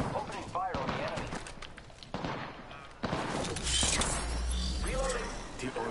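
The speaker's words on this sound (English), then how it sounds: "Opening fire on the enemy." Gunfire from the Apex Legends video game, with bursts and impacts scattered through the clip, mixed under steady game voice lines and effects.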